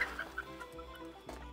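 Hens in a backyard henhouse cluck nearby in short, repeated bursts, a few quick calls close to the listener with a low background hum, and no one speaking.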